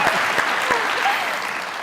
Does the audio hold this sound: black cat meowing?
no